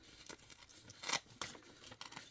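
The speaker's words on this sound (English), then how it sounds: "rip this" Fragile, tattered vintage paper sewing pattern sleeve being ripped by hand, a series of short dry tearing bursts close up, quiet between tears, with one louder rip near the middle.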